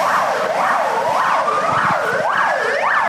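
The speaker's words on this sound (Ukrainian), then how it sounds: "Доки триває евакуація, до будівлі мчать пожежні автівки." Fire engine sirens wail loud and close as the trucks race toward a medical academy building during a rescue evacuation drill, a rising-and-falling sweep layered over a steadier tone, continuous with no talk.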